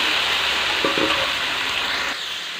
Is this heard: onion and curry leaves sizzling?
yes